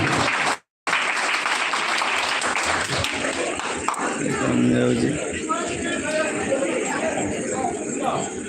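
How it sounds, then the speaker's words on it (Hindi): Loud, sustained audience clapping at a live stage event honoring a village head and social worker, with crowd chatter and a voice running under it. "जोरदार करताली से सम्मान देंगे"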